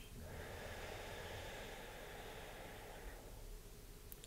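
A long, steady exhalation through one nostril during yoga pranayama breathing, a soft airy hiss lasting about three seconds, close and quiet, then tapering off, with no talk.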